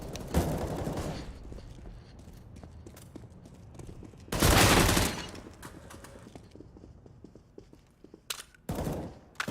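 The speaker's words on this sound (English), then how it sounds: "Flashbang." Flashbang grenade detonating in a video game, heard as a loud, sharp broadband burst midway through, with shorter blasts and gunfire-like pops before and after and no one talking.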